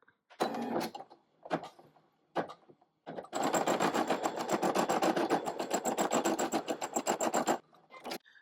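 A Brother ScanNCut DX embroidery machine stitches at speed, a loud rapid rattling run of about four seconds after a few short bursts of needle movement, stopping abruptly.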